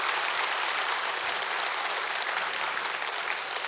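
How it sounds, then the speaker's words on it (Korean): A church congregation at a Wednesday daytime service applauds steadily and densely, the loud clapping filling the whole space evenly without pause or talk. "하나님께 영광의 박수 한번 올려드리도록 하겠습니다."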